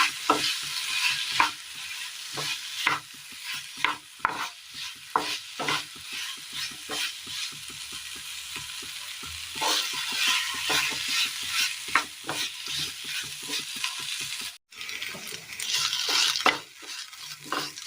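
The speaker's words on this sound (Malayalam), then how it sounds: "നന്നായി ഒന്ന് മിക്സ് ചെയ്യാം." Raw banana and onion frying in a pan for a curry, stirred with a steady run of close scraping strokes over constant sizzling that stops briefly near the end.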